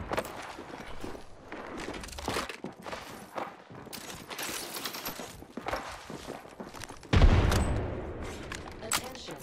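Gunfire in a fast-paced shooter battle royale: scattered shots and short bursts mixed with footsteps and movement, with a louder blast near the end.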